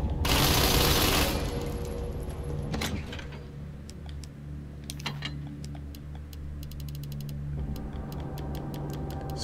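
Rapid weapon fire rattles in a video game, a fast stream of sharp, ticking shots in dense bursts, fairly near and steady, with scattered clicks and a loud rushing burst at the start.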